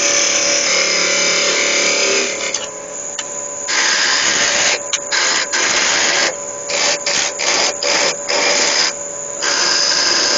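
A 13mm spade bit bores into a small turned wooden elephant figure with a loud, steady whirring grind, broken by several short pauses where the bit lifts out before cutting again.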